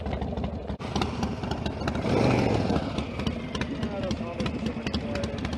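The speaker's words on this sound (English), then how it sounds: "What? I can't hear you over your Harley." Harley-Davidson Sportster 1200 motorcycle engine running steadily on gravel, a loud continuous rumble with a brief swell in the middle, with talking over it.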